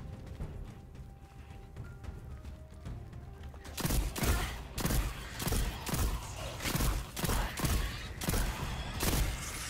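Hand cannon shots in the Destiny 2 video game, a series of loud, punchy blasts fired in an uneven rhythm after a quiet stretch, each followed by a short tail.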